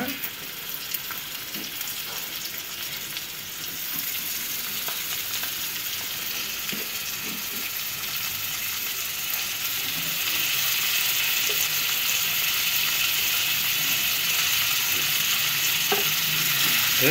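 Prawns dropped into a pan of pepper masala, a continuous close sizzle and crackle that swells louder partway through, with occasional scrapes of stirring and no voices.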